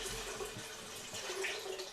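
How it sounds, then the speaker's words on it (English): Water is poured into a pressure cooker while making vegan Indian dal, giving a faint, steady splashing and trickling stream close by with no talking. "then we basically add approximately 2 to 3 inches of water on top of that"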